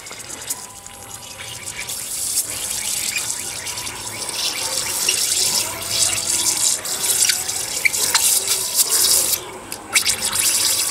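Water and trapped air gush out of a full pipe at a well being prepared for hollow block walls, a steady hissing, splashing flow with irregular spurts that stays close and fairly loud throughout.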